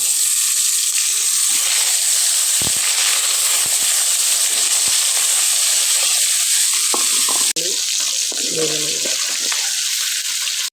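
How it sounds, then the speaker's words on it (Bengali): Small fish lightly frying in oil in a home kitchen, a loud continuous close sizzle with a few faint clinks and handling noises near the end. "মাছগুলো হালকা করে তেলে ভাজে নেব।"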